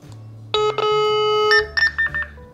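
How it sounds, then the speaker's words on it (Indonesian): A POC Radion RC-26 internet radio sounds its private-call ringtone: a loud, close sequence of bright electronic tones lasting about two seconds, with short stepped beeps at the end and no talking. "Nanti ada nada dering, nanti di HT lawannya kita bisa accept atau reject."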